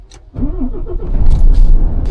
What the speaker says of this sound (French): Démarrage du bolide.